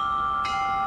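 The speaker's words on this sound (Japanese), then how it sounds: "これは18時半の鐘の音ですね。" The 6:30 pm public chime in Kochi city rings as a steady, sustained tone over quiet street ambience, with a slight brightening partway through.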